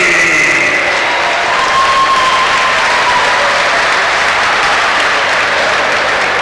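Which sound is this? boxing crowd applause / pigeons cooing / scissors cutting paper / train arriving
boxing crowd applause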